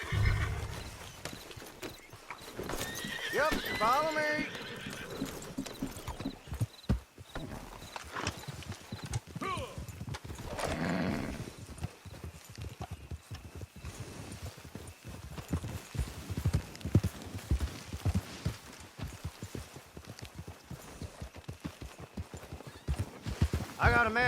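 Horses in Red Dead Redemption 2 Online clip-clop along at a trot with a whinny near the start, hooves tapping in an uneven rhythm beneath game music and occasional brief speech.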